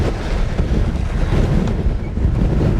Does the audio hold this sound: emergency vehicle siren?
no